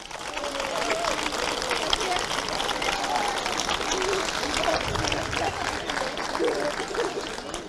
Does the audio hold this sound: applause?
yes